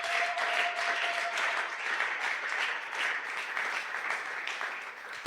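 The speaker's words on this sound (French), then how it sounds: "Est-ce qu'on peut acclamer très fort pour le Seigneur?" A church congregation at a Sunday praise and thanksgiving service applauds and cheers loudly and steadily for about five seconds, a dense continuous wash of clapping with no speech over it.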